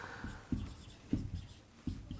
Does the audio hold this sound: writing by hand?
yes